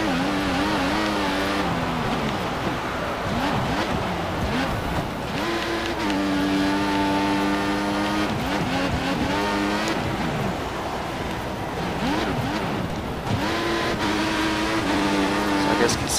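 An F1 race car engine in F1 2014 revs hard and climbs through the gears, a loud, continuous high whine rising in repeated sweeps with brief dips at each shift.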